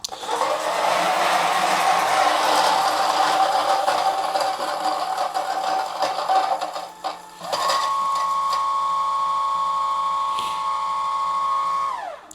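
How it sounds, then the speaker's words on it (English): A coffee grinder grinds beans on a finer setting. It runs as a loud, continuous whirring grind, with a short dip near the middle, then a steadier whine until it stops. "gonna grind some coffee, gonna grind a little bit finer than last time."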